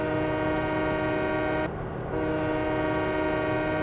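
A train horn in the Farming Simulator 2017 video game sounds one loud, steady, sustained blast that dips briefly about midway and then continues.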